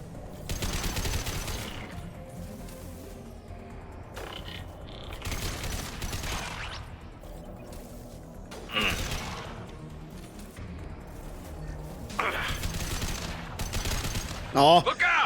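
Rapid bursts of automatic gunfire and scattered shots from a Mass Effect Legendary Edition firefight, loud and repeated in clusters across the span with mechanical clicks between, a voice talking over parts of it.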